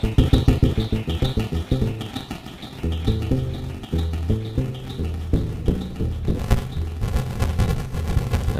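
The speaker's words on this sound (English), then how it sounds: "the sound you're hearing right now all originated just from a rubber band being plucked" Synth tones built from a plucked rubber band, loud rhythmic pulsing bass notes and percussive hits in a dense electronic pattern that continues throughout.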